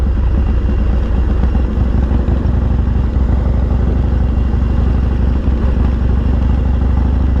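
A Harley-Davidson Dyna FXDX motorcycle rumbles loud and close with a steady, throbbing V-twin engine note while it rides along an abandoned airstrip, and no one talks.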